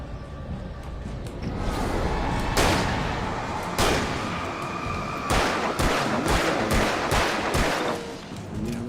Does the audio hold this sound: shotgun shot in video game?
yes